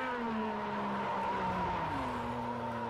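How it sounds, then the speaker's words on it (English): IndyCar race car engine on an oval in the video game Project CARS 2, a loud sustained high-revving drone with gliding pitch and tire squeal, continuous and close. "Look at the sound of that engine. Not the best right now."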